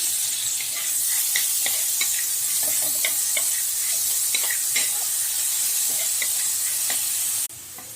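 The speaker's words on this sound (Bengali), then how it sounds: "এরপর কড়াইতে তেলটা গরম হলে আমরা দিয়ে দেবো পেঁয়াজ বাটাটা" Loud, continuous sizzling of onion paste frying in hot oil in a wok, with scattered crackles and pops, dropping suddenly quieter near the end.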